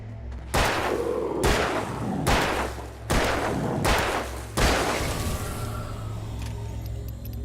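Five loud gunshots ring out in the Alan Wake video game, each a sharp broadband crack with a short reverberant tail, spaced roughly evenly over several seconds before fading into a low ambient hum.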